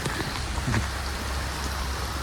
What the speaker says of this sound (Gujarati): વરસાદ મસ્ત હાલ્યો આવે છે જોરદાર